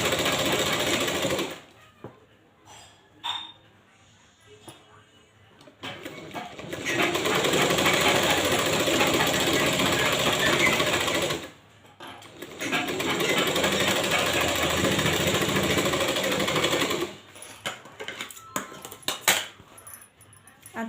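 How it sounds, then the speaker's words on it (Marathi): A sewing machine runs in long bursts, stitching along the top edge of a sleeve lining, with pauses between runs and brief handling noises in the gaps. "वरच्या बाजूने सिलाई मारायची आपल्याला"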